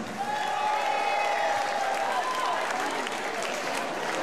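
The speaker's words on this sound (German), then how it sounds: "Ein ganz kräftigen Applaus für den Mann an der Technik" Steady applause from a crowd at a live Schlager pop show, dense clapping that holds at an even level throughout, with faint voices mixed in.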